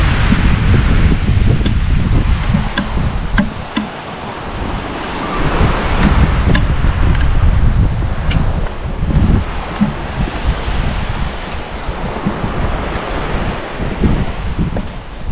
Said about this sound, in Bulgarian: И въпреки всичко, вълнението пак се вижда,